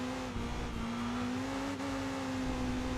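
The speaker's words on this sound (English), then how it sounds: "we are in the EP3 Civic Type R with the 2-liter K20 engine. Crazy high revs, lots of power." Honda EP3 Civic Type R with its 2-liter naturally aspirated K20 engine, in the racing game Enthusia Professional Racing, holds a steady, high, buzzing engine drone at nearly constant revs throughout, with no one talking.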